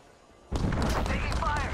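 Gunfire in the Apex Legends video game erupts abruptly after a quiet moment, a loud burst of shots with booming impacts and ringing tails, with speech mixed in.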